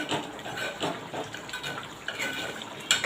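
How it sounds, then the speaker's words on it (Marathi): Hot water pours into a simmering dhaba-style egg masala curry, a close, bubbly splashing gush that rises and falls in uneven surges, ending with a brief sharp clink, no talk heard. "याच्यात मी गरम पाणी परत टाकले"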